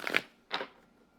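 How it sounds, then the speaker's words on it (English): Tarot cards given one big shuffle, two quick papery riffling bursts close by with a short pause between them, then fading out. "I'm gonna do one more big shuffle for you"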